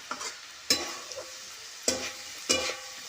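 Cooked field bean vegetable being stirred in a pan on a wood-fired stove, with a few distinct scraping stir strokes over a faint background sizzle, close and fairly quiet.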